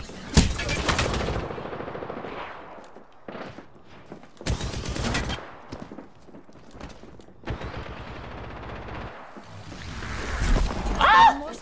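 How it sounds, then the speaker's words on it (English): Automatic and single gunshots from the video game Apex Legends come in several loud bursts separated by gaps, with mechanical sounds and a brief outburst near the end. "Shooting at me."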